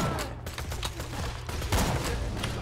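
Gunfire in Borderlands 2 crackles in a rapid, irregular string of sharp shots, loud and close, blended with booming impacts and game action.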